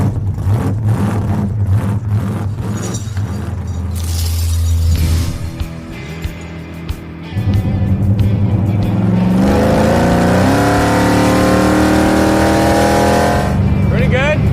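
Drag race car engine on an ice track, revving loudly and steadily with a brief dip midway, as people talk over it throughout.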